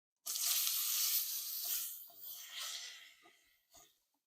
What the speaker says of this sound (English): So right now, man, we just braising the oxtails down. We want to get a little charcoal on both sides, sear them up real good.